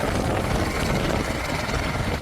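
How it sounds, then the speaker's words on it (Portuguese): A helicopter taking off just before a crash into water, its loud steady rotor and engine roar filling the whole stretch without a break. "Este vídeo mostra a decolagem do helicóptero"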